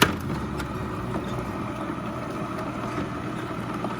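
Wet grinder churning urad dal batter with salt added, a steady continuous mechanical rumble and whir that holds at an even level throughout, with no talking.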